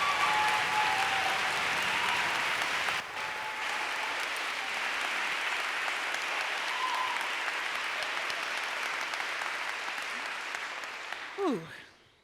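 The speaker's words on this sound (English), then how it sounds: "can we give Roxane Gay just a big round of applause for a decade of work that this book represents" A seated audience gives writer Roxane Gay a sustained round of applause, steady and even for about twelve seconds before fading, with a faint voice near the end.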